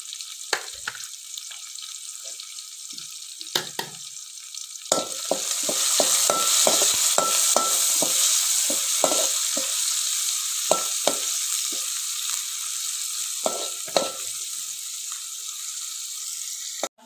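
Onion, curry leaves and kokum dropped into hot oil with garlic for a Malvani tempering over a wood-fired stove, starting with sharp stirring clatters and then building into a loud, steady sizzle with repeated spoon knocks.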